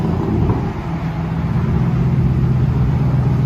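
A Dodge/RAM 4.7L V8 Magnum engine with an aftermarket loud exhaust, a deep rumbling drone held steady and loud at close range, without any talk over it.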